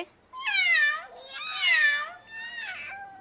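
A young child imitates a cat, giving three drawn-out, rising-and-falling meows in quick succession, close and clear against a quiet room.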